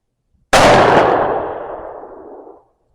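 A single sharp rifle shot from a Remington 783 chambered in .350 Legend cracks loudly and then rolls away in a long echoing decay lasting about two seconds.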